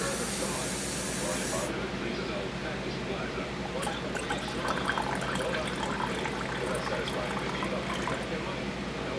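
Water pours steadily into a canning jar of wild rice with a hissing, splashing rush, and a person speaks over it.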